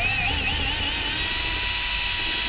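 A power drill with a 1/8-inch pilot bit whines loudly and continuously while boring into the dashboard of a Toyota FJ Cruiser during a speaker install, its pitch rising slightly and then holding steady.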